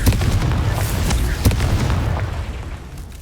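The Confringo explosive spell in Hogwarts Legacy sets off a loud, rumbling blast, a dense roar of booms and crackles that slowly fades.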